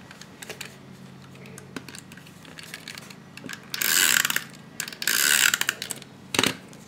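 A Stampin' Up Snail adhesive runner rolls adhesive onto paper, giving soft clicking and ratcheting near the mic with two longer rasping swipes and a short final one, without speech.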